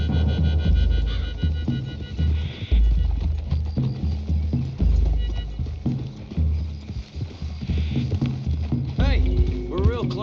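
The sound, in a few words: horses' hooves from video game Red Dead Redemption 2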